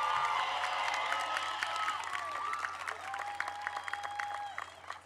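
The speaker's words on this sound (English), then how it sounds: "We can give them a round of applause." Crowd applause at a 2022 high school graduation ceremony, sustained clapping mixed with cheers and whoops from a large audience that gradually fades, with some voices shouting over it.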